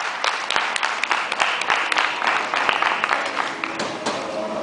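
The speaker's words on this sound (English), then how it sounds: "Another round of applause," An audience at the Millrock latte art competition in Las Vegas, 2009, applauds a competitor, a continuous spread of many hands clapping at close range, with a voice faintly underneath.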